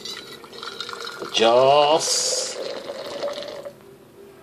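Boiled drinking water pours into a container in one steady stream of about half a second, with a person speaking before and after over a faint background hum.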